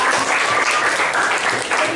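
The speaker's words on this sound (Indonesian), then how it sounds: "Sampai sini silakan kalian tepuk tangan untuk" Lively applause from a class of students, dense continuous clapping throughout, fairly close and loud.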